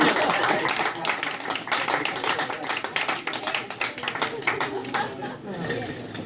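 Applause from an audience fills the space, dense and steady from start to finish, thinning a little toward the end with scattered individual claps and some crowd noise.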